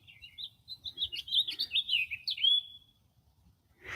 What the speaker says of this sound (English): Boy, I didn't realize there were so many freaking birds.